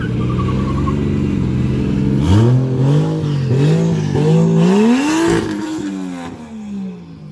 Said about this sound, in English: Oh, I love the sound of JDM motors in the morning.